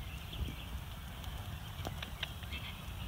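Hooves of a horse stepping on the ground during groundwork handling, soft scattered clops over a low rumbling background, with a few sharper clicks near the middle.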